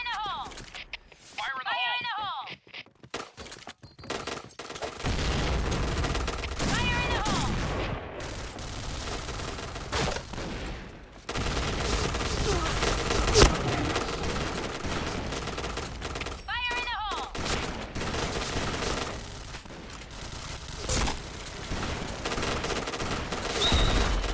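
Gunfire in a multiplayer shooter video game, with bursts of rapid shots and shotgun blasts through a busy mix of in-game effects, someone talking over much of it.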